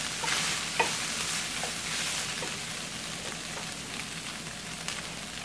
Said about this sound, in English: I'm gonna let my onions get a little bit more cooked off